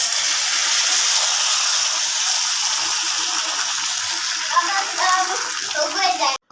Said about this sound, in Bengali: আজ খুব বৃষ্টি